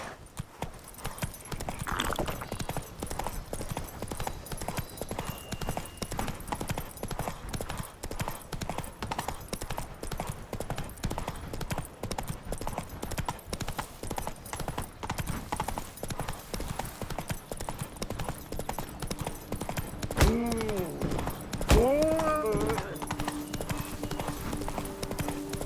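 Roach the horse gallops in The Witcher 3: Wild Hunt, Blood and Wine, with rapid, steady hoofbeats throughout and a brief whinny near the end.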